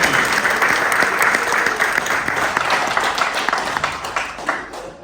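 Sustained, dense applause from an audience at a celebrity cricket event, loud and steady throughout with many overlapping claps, tapering slightly at the very end.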